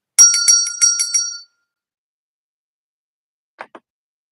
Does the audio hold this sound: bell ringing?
yes